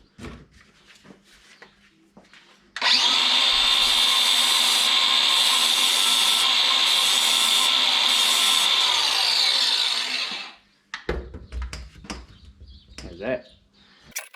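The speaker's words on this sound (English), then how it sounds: "I'm going to sharpen this centre punch." A powered grinder sharpens a steel centre punch in a home garage workshop, a loud steady whine running for about eight seconds with faint tool sounds and quiet handling before and after.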